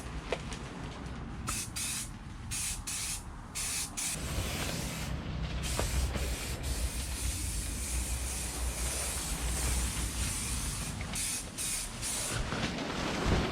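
A steady, loud hiss of an aerosol spray can spraying continuously, with brief pauses and faint background noise, no talking.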